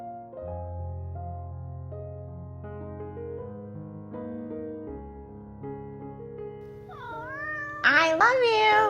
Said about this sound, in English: The measure cats will take to get your attention is unimaginable.